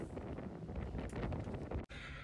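Strong wind buffets the microphone outdoors at a car boot sale, a loud continuous rumbling roar with gusty swells that drops out briefly near the end before resuming.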